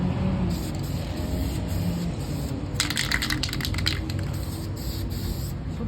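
Paint spray gun laying a light tack coat onto parts, a steady close hiss running throughout with short bursts of stronger spraying near the middle.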